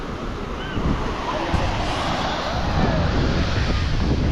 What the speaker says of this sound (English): This is Koh Mai beach